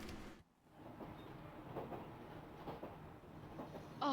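A train moving in the video game Professor Layton and the Diabolical Box gives a steady low rumble with faint rhythmic clacks, quiet and continuous, plus a brief dropout and a small chime near the end.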